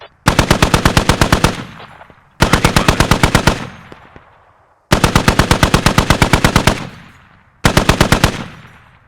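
Belt-fed machine gun in a tactical video game firing four long, loud automatic bursts of rapid evenly spaced shots, each ending in a decaying echo before the next burst.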